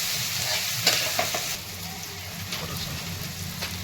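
Green chili, garlic and curry leaves sauté in a pan for a vermicelli upma, giving a soft steady sizzle with a few scraping stirs, close and moderately quiet, with no one speaking.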